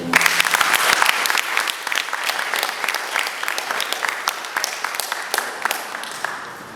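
An audience at Togolese cultural days in Morocco acclaims the head of state and his government with dense, sustained clapping that stays loud and even throughout, with only a faint voice beneath it.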